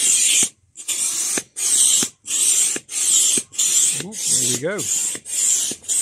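A Berghaus Air 6XL polycotton air tent is inflated through one of its valves: about nine rhythmic rasping pump strokes, each separated by a brief pause, with a short spoken word near the start.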